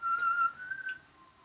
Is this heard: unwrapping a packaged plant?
no